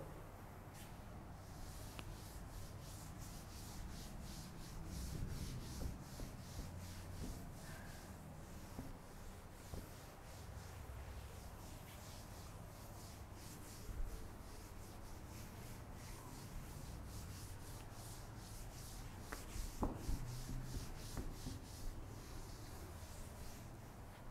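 A board being wiped to erase chalk or marker writing during a physics lecture, giving a steady, soft rubbing and scraping texture with faint scattered knocks, fairly quiet and continuous throughout without speech.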